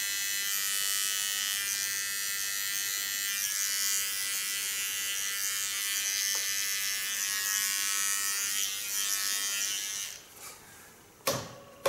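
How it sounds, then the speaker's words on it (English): A small electric hair clipper trims around the eyebrows with a steady, high-pitched buzz. The buzz runs continuously for about ten seconds, then cuts off and leaves a few quieter handling sounds. "With my small clipper, I also do the underlines of the eyebrows and mostly take away the hairs between it."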